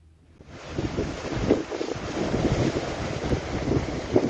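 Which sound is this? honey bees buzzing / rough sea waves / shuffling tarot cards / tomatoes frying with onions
rough sea waves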